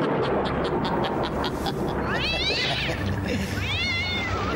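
A cat lets out two loud, rising-and-falling meows close by over a busy, noisy background of music or crowd sound.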